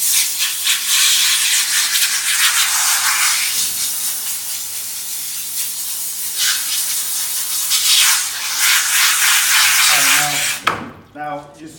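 A garden hose sprays water to rinse emulsion remover off a screen, giving a loud, continuous hiss that swells and fades as the stream moves, with a voice speaking briefly near the end.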